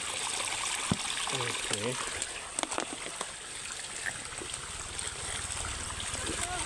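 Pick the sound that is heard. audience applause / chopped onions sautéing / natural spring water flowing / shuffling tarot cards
natural spring water flowing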